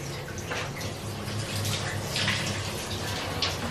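Water runs steadily from a tap or shower over wet hair locs during washing, a continuous broadband splash with no speech.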